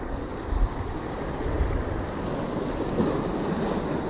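Ocean surf and gusting wind on a beach near Santa Monica, California, where people are surf fishing: a steady, broad wash of breaking waves with wind rumble against the microphone, continuous and fairly close, with no voices.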